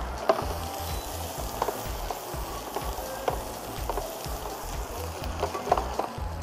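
Chopped Northern Thai sausage sizzles steadily in a pan with roasted chilli, a constant frying hiss broken by regular scrapes and stirring knocks.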